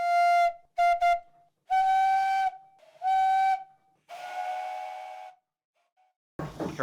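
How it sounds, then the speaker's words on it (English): The whistle of a wood-fired steam donkey engine blows in several bursts: two short toots, then longer blasts, ending with a drawn-out, hissier blow, loud and close. "Carries a variety of whistles on it"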